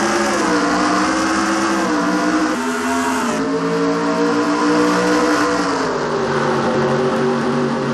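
Several race cars in a NASCAR-style racing video game accelerate together at the green flag at Rockingham, North Carolina, a loud, continuous roar of engines that rises and shifts pitch as they pull away, with no talk over it.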